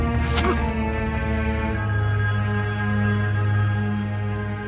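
A telephone bell rings with a bright, sustained metallic tone, fairly close, over a steady low background hum.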